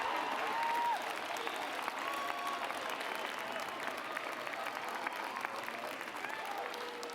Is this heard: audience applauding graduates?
yes